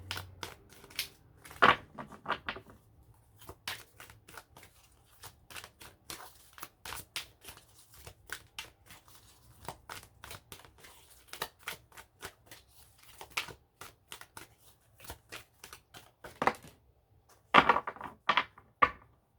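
Tarot cards being shuffled and drawn from a deck, heard as a string of quick papery slaps and riffles, close and fairly quiet, with a denser burst of flicking near the end and no talking.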